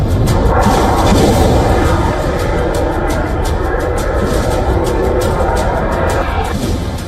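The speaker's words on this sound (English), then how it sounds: "Air defenses roar as loud explosions break the silence of the night" Dense, continuous low rumbling and thudding of explosions and air defense fire at night during a mass missile and drone attack on Ukraine, loud and sustained with overlapping booms.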